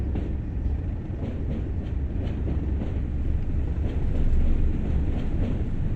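A coal freight train rumbles along steadily in Train Sim World on the Tees Valley Line, with a deep continuous drone and faint rhythmic clatter of wheels, heard close and alone.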